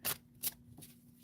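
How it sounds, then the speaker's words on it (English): Tarot cards being shuffled and one pulled during a live reading, three quick papery riffles close by, the first two loudest and the last softer. "V, I'll pull a card for you from South India."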